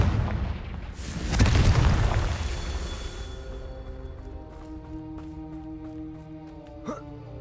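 A Confringo blasting spell detonates in Hogwarts Legacy, a heavy booming burst that swells and fades over a couple of seconds, followed by a lingering ringing shimmer and a small sharp pop.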